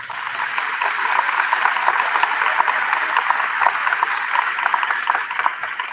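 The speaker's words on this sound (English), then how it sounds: "let's give them a round of applause" Audience applause fills a school eighth grade promotion and awards day ceremony, a steady, dense wash of clapping hands that holds loud and even throughout with no break.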